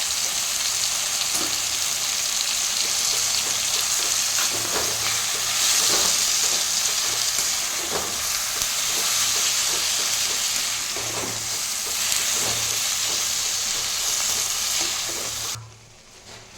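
Tomatoes and onions fry in oil for tomato rice, with a loud, continuous close sizzle and occasional stirring scrapes. It runs steadily for most of the stretch and then drops away suddenly near the end.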